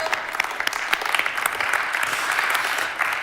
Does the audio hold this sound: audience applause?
yes